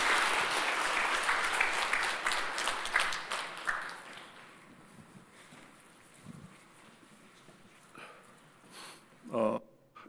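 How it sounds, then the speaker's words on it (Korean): A church congregation applauds during a Sunday service, clapping loud at first and then thinning into scattered claps, with a voice speaking and a brief clatter near the end. "뜨거운 박수로 격려해 주시면 감사하겠습니다"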